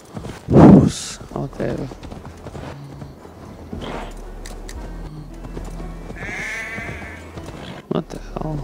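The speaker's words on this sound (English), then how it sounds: "Oh, that's a sheep." Sheep bleating in a video game, a short wavering call that comes after a loud thud and sits under game sounds and a talking player.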